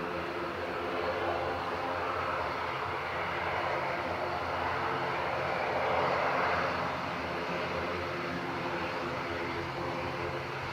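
A fixed-wing airliner departs from runway 10 right at Dublin Airport, its engines a broad, steady roar heard from a distance that swells slightly midway and then holds.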